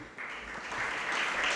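The audience at a Jain sermon breaks into brief applause, a soft patter of many hands that swells slightly louder over about a second and a half.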